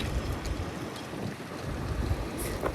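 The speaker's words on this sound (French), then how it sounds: "Il y a beaucoup de vent aujourd'hui." Strong wind buffeting a microphone outdoors, a loud continuous low roar with gusting swells throughout and no other sounds standing out.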